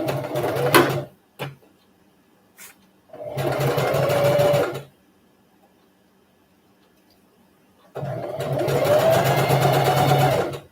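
A sewing machine running a long basting stitch on pajama fabric: two steady whirring, buzzing runs of about two and three seconds, close and loud, separated by quiet pauses with a few light clicks and handling taps.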